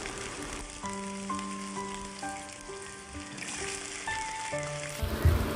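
Potatoes frying in hot oil in a wok while cooking aloo phulkopi, a steady close sizzle running throughout with faint stirring near the end.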